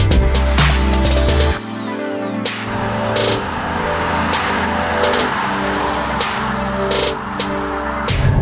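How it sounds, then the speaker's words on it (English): Engine of a 2018 Acura TLX accelerating, heard from inside the cabin with an augmented engine note: a steady, loud mid-pitched drone that dips briefly after the first couple of seconds, then climbs again and holds. "this car does have augmented engine note inside the cabin"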